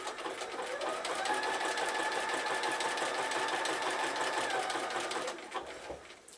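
A sewing machine runs steadily for about five seconds, stitching zig-zag appliqué onto fabric for birthday bunting, its whirring motor holding even and close before slowing to a stop.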